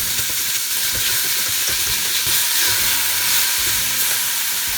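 Onions fry in a pot with pork for tonjiru, giving a steady, close, bright sizzle with soft stirring scrapes and clinks underneath, continuous throughout.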